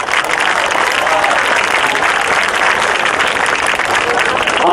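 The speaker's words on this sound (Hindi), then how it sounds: "हम सब लोग तालियों द्वारा उनका दोबारा से स्वागत करते हैं" An audience at an IMA satyagraha event applauds to welcome a guest, with sustained dense clapping filling the room at steady loudness throughout, and a voice faintly audible beneath.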